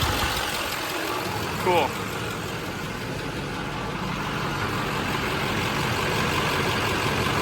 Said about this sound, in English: Clutch is spinning.